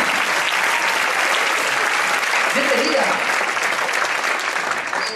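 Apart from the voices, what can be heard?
audience applauding a volunteer at a magic gala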